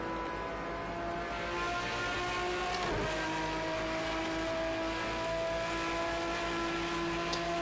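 A race car engine drones steadily through a Le Mans lap in a video game, a loud sustained whine with a brief dip and shift around midway before settling back to a constant high-pitched roar.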